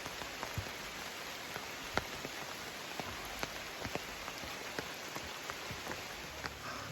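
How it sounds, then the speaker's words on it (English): Heavy rain pattering steadily on a surface, presumably an umbrella, along the Appalachian Trail, with a dense continuous hiss and scattered sharper drops landing throughout, close and even. "it's raining pretty hard right now"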